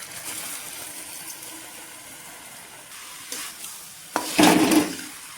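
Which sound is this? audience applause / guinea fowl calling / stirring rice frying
stirring rice frying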